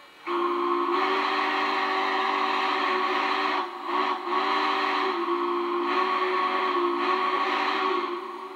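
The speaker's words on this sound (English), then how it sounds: "here's the whistle" A Lionel model train steam locomotive whistle, steady and sustained with a bright chord-like tone, held for several seconds with a brief dip partway through, loud and close.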